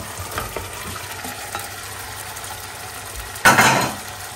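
Egg cooking in a pan at home, a soft low sizzle with light stirring taps, then a sudden louder burst of frying as something hits the hot oil near the end.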